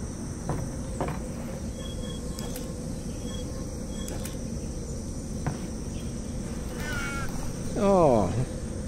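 Crows caw in Half-Life Alyx over a steady insect-like hum and faint clicks, with a couple of harsh descending caws near the end against an eerie background.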